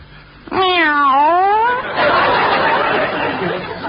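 A cat gives a loud, close, drawn-out meow with a rising and falling pitch, followed by a breathy, noisy vocal stretch, heard alone with no talk.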